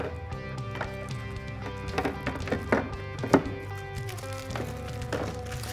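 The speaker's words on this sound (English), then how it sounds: "we're going to go ahead and just drop this taillight in" Several plastic thunks and taps sound close by as a Jeep JL Wrangler tail light is set down and pressed into place, a sharper knock near the end.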